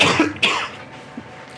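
A single cough bursts out near and loud at the start, followed by a second shorter cough or throat clearing, then quiet room tone with a faint click.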